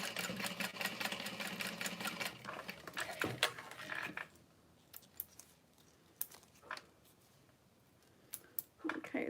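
Sewing machine basting a fabric tote bag, a close rapid stitching whir for about four seconds, followed by quiet scattered clicks and handling taps.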